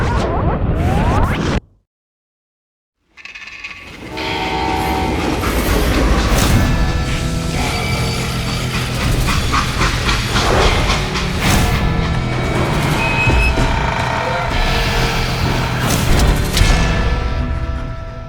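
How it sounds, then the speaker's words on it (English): Steam train in the video game Call of Juarez Gunslinger, loud and rumbling, with whooshes, clanks and rolling rail noise after a brief silent gap near the start. "How'd they stop this train in the first place?"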